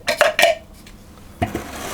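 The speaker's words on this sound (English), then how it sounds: "And then I'm just going to stir that around" A spoon clinks and scrapes against a bowl while oats are stirred into a seed mixture, with a few sharp close knocks, a quiet pause, then another clink and softer scraping.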